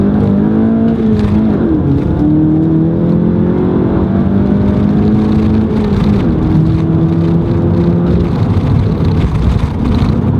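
A 2017 VW GTI MK7 engine revving hard under acceleration, with a loud, close, continuous drone whose pitch climbs through the gears, dipping briefly at each shift before rising again.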